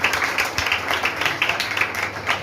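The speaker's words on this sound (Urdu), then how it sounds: "ذرا وہ محبت تالیاں بجا کر اس کے جلال کے لیے" A church congregation claps together during worship, a dense, steady patter of many hands filling the room at moderate volume with no break.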